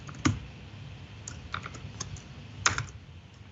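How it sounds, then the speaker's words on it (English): Keys clatter on a computer keyboard in scattered bursts of clicks during a live coding demo at a .NET developer conference, close and fairly quiet over a low room hum, with no talking. "There's those typing skills again."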